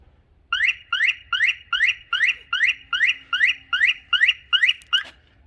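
A Porsche Panamera car alarm in panic mode, sounding a rapid series of about twelve evenly pulsed, high-pitched electronic honks, each rising briefly, repeated steadily at a close distance with no talk.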